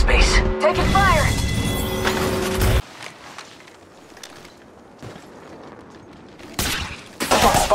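Rapid bursts of gunfire in the mobile battle royale game Apex Legends Mobile, loud and close at the start and end with quieter ambient stretches between, mixed with game sound effects and voices.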